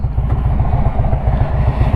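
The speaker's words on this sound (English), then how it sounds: "Nothing sounds better than TAB Performance slip-on exhaust with Zombie Baffles on an Indian or a Harley" An Indian or Harley motorcycle with a TAB Performance slip-on exhaust and Zombie Baffles runs close by, its deep lumpy idle pulsing in a fast, regular low thump for a couple of seconds.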